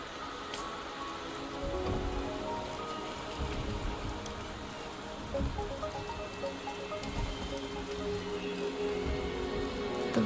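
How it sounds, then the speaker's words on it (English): Steady rain falls in the video game Wuthering Waves, a dense, even patter of drops on surfaces with faint scattered splashes, continuous and close with nobody speaking. "The rain is subsiding, and the sky will soon clear."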